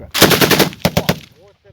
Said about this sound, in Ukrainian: Ну я зараз шмальну таку чергу хорошу